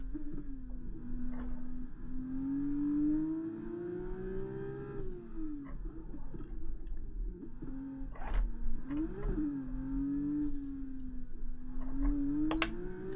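An F1 race car engine in the F1 2024 video game, driven at Monaco, whining up and down in pitch as it shifts through the low gears, with sharp drops and rises at each change and steady engine tone throughout.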